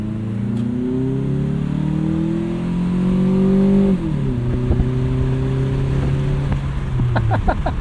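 A loud, close Toyota Camry engine with a carbon fiber open intake and modified exhaust revs up and holds high, then drops and idles with a rough, throaty note before blipping again.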